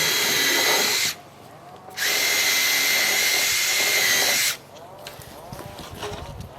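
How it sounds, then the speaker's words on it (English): A power drill drives screws into pre-drilled tongue and groove boards on an A-frame cabin, two loud whining bursts of about one and two and a half seconds, separated by quieter gaps with faint handling noise. "all you got to do is just put a screw in every hole"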